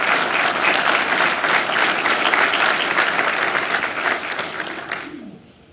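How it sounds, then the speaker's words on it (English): A crowd at a county government gathering claps in sustained applause for public servants, steady and dense for several seconds before tapering off and stopping. "I think we all owe them all a round of applause"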